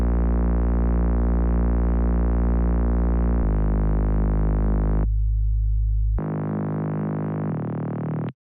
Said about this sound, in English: And we have the basses, two of them, and they sound like this.